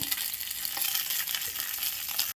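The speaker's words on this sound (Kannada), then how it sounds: "ಎಣ್ಣೆ ಸ್ವಲ್ಪ ಬಿಸಿ ಆಗ್ತಿದ್ದಾಗೆ ಇದಕ್ಕೆ ದೊಡ್ಡ ದೊಡ್ಡದಾಗಿ ಹೆಚ್ಕೊಂಡಿರುವಂತಹ ಈ ಕ್ಯಾಪ್ಸಿಕಮ್ಮನ್ನು ಹಾಕ್ತಾಯಿದ್ದೇನೆ" Large chopped capsicum pieces fry in hot oil with a steady, dense sizzle up close. The sound cuts off abruptly at the end, and no one speaks.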